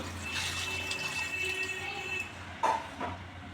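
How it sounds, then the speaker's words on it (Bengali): Hot water is poured into a pan of frying potatoes and spice paste, a rushing pour over a steady sizzle that ends with a sharp hissing splash, close and moderately loud, no talk. "এবার গরম জল ঢেলে দেব"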